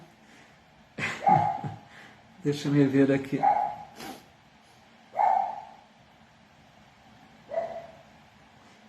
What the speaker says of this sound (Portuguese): Os cachorrinhos já estão querendo participar aqui também